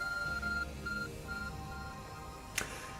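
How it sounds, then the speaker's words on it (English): Repeated electronic beeps from the arc phone in Pokémon Legends: Arceus, a series of steady tones over faint game background, ending with a sharp chime. "Your arc phone is beeping!"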